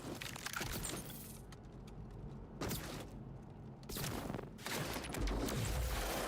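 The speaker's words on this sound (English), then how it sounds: "I like using this assault rifle." Assault rifle fire in a video game rattles in dense, sustained automatic bursts, broken by a couple of brief pauses and running loud from start to finish.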